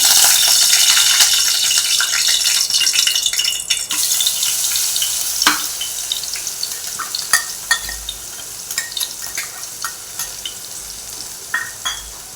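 Loud, steady sizzling of masala paste frying in hot oil for a spicy prawn curry, with scraping stir strokes and occasional spatters throughout.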